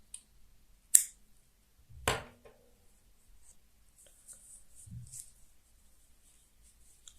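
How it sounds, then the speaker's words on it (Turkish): Scissors snip through yarn while crocheting a doll dress, two quick sharp cuts about a second apart in an otherwise quiet room, followed by faint rustling handling of the yarn. "İpimi kesiyorum."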